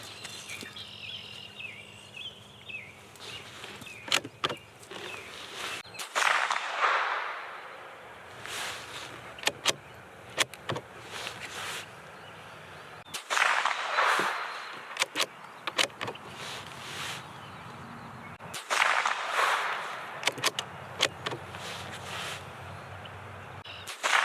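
Suppressed Savage B22 FVSR .22 rifle firing CCI Mini-Mag rounds at a 100-yard target: about five sharp, muffled cracks spaced several seconds apart, with quiet outdoor background and handling sounds between shots.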